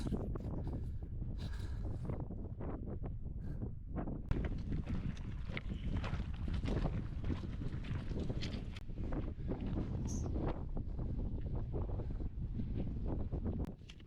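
Gusty wind on the Svydovets mountain ridge buffets the microphone in uneven rushes, a rough low roar with occasional sharper gusts and thumps, no voices.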